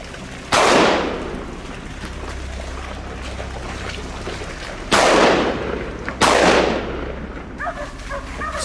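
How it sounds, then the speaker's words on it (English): Three sharp, loud gunshots with long decaying tails during a wild boar hunt, the first near the start and two more close together later, over a low steady rumble. "Startled by the gunshot, the boar bolted"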